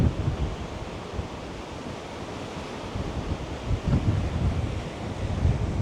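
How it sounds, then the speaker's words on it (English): Steady strong wind roars by a hotel pool beside the ocean, buffeting the microphone with continuous low rumble and surf-like wash, loud and unbroken with no talking. "It is a little bit of windy today."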